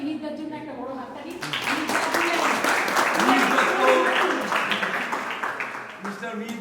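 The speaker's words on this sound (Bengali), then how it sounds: "মিহিরদার জন্য একটা বড় হাততালি" An indoor audience at a staff prize-giving and New Year celebration claps for the board president, a swelling wash of applause that builds and fades, with a speaker's voice carrying over it at the start and end.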